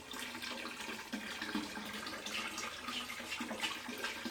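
Tap water running steadily into a container as it is rinsed out, a constant close splashing rush with small fluctuations in flow, no voices.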